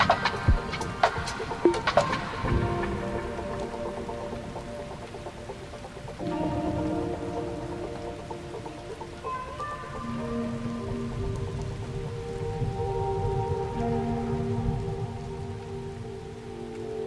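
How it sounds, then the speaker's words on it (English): Rain and thunder ambience closing an electronic album, steady rainfall with a low rumbling roll, blended with sustained synth tones and no talking. "Is he gonna bring the rain back and the thunder?"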